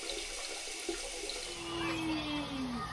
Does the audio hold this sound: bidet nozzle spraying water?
yes